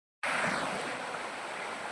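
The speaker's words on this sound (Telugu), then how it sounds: "ఇక్కడ పైన నుండి వాటర్ అయితే ఫ్లో వస్తూనే ఉంటుంది" Water of Vennamuddala Gandi waterfall pouring down from above, a steady close broadband rush that starts abruptly and keeps going without a break, with no voices.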